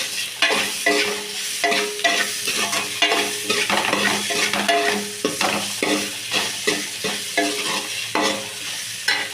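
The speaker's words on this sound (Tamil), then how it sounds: "மஞ்சத்தூள் கொஞ்சம் நல்லா இதையும் கிண்டிக்கலாம்" Spices and turmeric are stirred and scraped in a hot pan with a steady sizzle underneath, close and continuous, with no talking.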